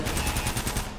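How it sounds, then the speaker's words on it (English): Rapid gunfire from a weapon shot from the hip in the video game Uncharted, a dense one-second burst of repeated shots, loud and close, with no talking over it. "I didn't know that I could shoot from the hip"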